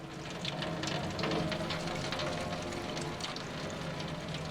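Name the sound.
rain in an anime episode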